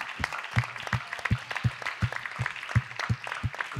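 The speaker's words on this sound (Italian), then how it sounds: "un applauso a questi giovani" Theatre audience at a Sanremo casino concert clapping for young performers, a rhythmic, evenly spaced beat of claps in unison, about three per second, steady and moderately close over a low hum.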